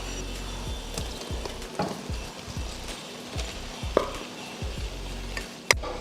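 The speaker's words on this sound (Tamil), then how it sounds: "அடுப்பை சிம்மில் வச்சுட்டு இப்போ சாதத்தை இதில் போட்டுக்கலாம்" Cooked rice tossed and stirred into puliyodharai tamarind paste in a pan over low heat, giving scraping spoon strokes and soft sizzling with a few sharper clinks, steady and close.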